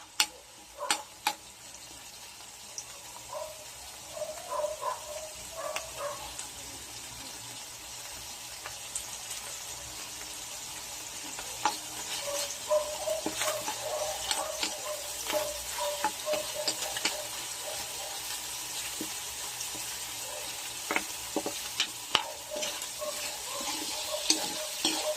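Garlic sizzles in plenty of hot oil in a pan while being stirred, for chicken adobo with pineapple. Steady frying crackle runs throughout, punctuated by repeated scraping and clicking of the stirring utensil close by.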